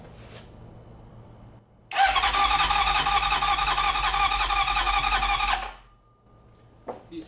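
A Honda CB750 motorcycle engine cranks over in one long, loud, buzzy whirring burst of about three and a half seconds without catching, then drops to near silence, with a brief click near the end.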